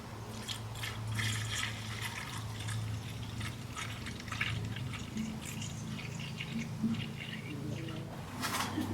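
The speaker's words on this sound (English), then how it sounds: "I've made up a 50-50 mix of new fluid and distilled water, and I'll just pour that right into the expansion tank" Premixed 50-50 coolant and distilled water pours into the expansion tank of a 2017 VW Sportwagen, a faint, steady trickle and gurgle with small drips, quiet and close throughout.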